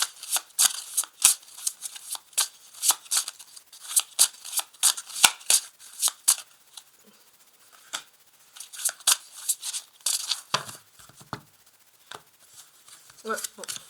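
Tarot cards being shuffled by hand in a series of quick, crisp riffling bursts with short gaps, close and fairly loud, with a few softer handling sounds toward the end.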